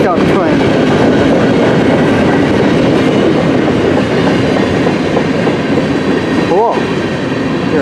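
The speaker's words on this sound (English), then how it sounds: "M399 westbound train." A westbound CN M399 freight train rumbles past close by in Port Huron, Michigan, a loud steady roar with rhythmic clickety-clack of wheels on rail joints, running continuously with a brief metallic squeal near the end.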